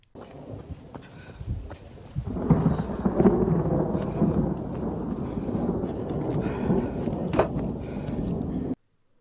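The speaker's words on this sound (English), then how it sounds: "We heard thunder about a quarter of the way down" Low thunder rumbles steadily for several seconds, building after a quieter start, with rain and wind noise mixed in before cutting off abruptly.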